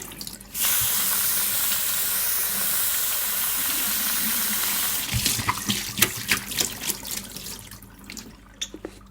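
Tap water runs in a steady, close hiss while fenugreek sprouts are double rinsed, then gives way to scattered splashes and drips as the flow stops.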